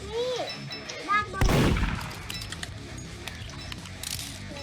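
A loud gunshot rings out in the Roblox game Murder Mystery 2 just after brief voiced cries, followed by a rumbling decay and scattered game noises.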